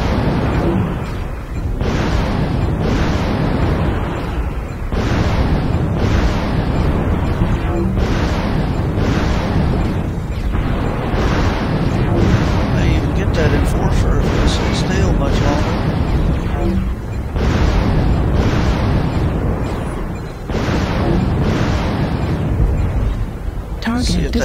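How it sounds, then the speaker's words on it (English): Twin AC-10 autocannons on a Hunchback 4J mech in MechWarrior Online fire in a regular rhythm of loud, heavy booming bursts, roughly one to two seconds apart, with game noise filling the gaps. "this thing fires pretty good on the old two AC-10s"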